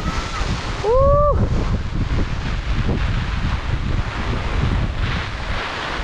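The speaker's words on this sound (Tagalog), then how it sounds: "Ito tapoy malapit sa dagat kaya ganito po ang hangin." Strong wind near the sea blusters steadily into the microphone in a rushing, unbroken roar, with a brief whistling or squealing tone early on.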